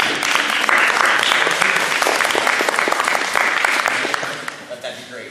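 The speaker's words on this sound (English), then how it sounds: "So, round of applause for Josh" An audience at a 2015 Kitchener-Conestoga election debate in a public school bursts into loud, sustained applause with dense clapping that tapers off near the end.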